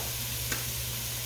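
Onion and spices saute in a pan for black-eyed peas, giving a steady close sizzle with a brief stirring scrape, no talk.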